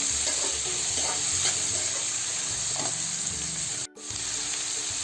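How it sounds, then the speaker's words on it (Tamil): Onions frying toward dark brown in a pan for dry fish curry (karuvadu kuzhambu): continuous close sizzling with occasional stirring taps and a brief dip in the noise, no voices. "இதை நல்லா ஒரு டார்க் ப்ரௌனாக வர வச்சு ஃப்ரை பண்ணிக்கலாம்."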